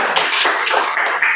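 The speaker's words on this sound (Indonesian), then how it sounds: "Jadi kita beri semangat untuk kelompok 1 dengan tepuk tangan." A classroom of students clapping for a discussion group, a short burst of close, busy applause with no talk.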